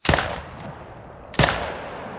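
A rifle shot fired while hunting in theHunter: Call of the Wild video game: two sharp, loud reports about 1.3 seconds apart, each followed by a long echoing decay over outdoor ambience.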